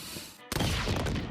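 A Flintlock pistol fires its Concentrated Shot in the Roblox game Blox Fruits: one sharp, loud blast that cuts in abruptly after a short lull, followed by a dense crackling burst that carries on to the end.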